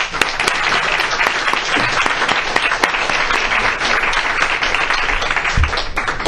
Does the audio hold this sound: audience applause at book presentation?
yes